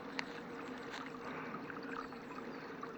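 Water from a natural spring runs steadily through a stream, a continuous faint rushing with small splashes, heard alone outdoors in a field setting.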